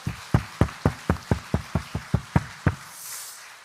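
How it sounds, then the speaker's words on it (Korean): A church congregation applauding in unison: about a dozen sharp, evenly spaced claps in a steady quick rhythm, then fading to a soft room hush, with no voices. "우리의 예배와 찬양을 받으시 하나님께 다시 한번 우리 영광의 박수를 올려드립시다."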